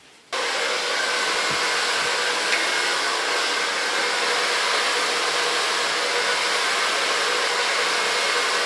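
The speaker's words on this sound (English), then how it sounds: "Blow dry it with an ultra light brush." A hair dryer switches on and blows steadily, a loud close continuous whoosh while short platinum hair is blow-dried with a brush, no talking.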